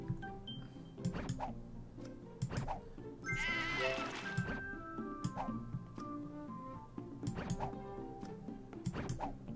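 Sheep bleat in the video game Divide by Sheep, a series of short, wavering bleats over quiet game music, with a brief burst of bright jingling midway and no talk.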